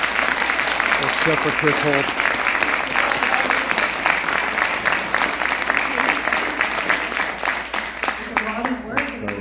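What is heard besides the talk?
applause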